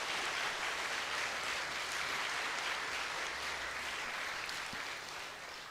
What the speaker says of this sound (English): You dare to clap?